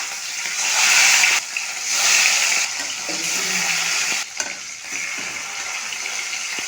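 Hilsa fish frying in hot mustard oil in a wok gives off a loud, steady, hissing sizzle that swells and eases in waves. The sound is close, with no voices.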